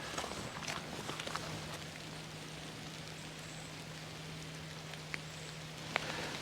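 Rain patters steadily on trees and ground during a woodland hill walk in South Wales, a soft constant hiss with occasional heavier drips and faint footsteps.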